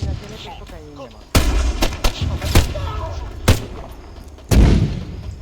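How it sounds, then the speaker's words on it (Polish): Gunfire in the video game Arma III: several sharp, loud shots ring out at irregular intervals, with booming echoes between them over a steady noisy battlefield bed. "Wykryto strzał 200 metrów."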